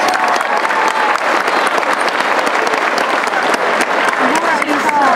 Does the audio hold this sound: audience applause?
yes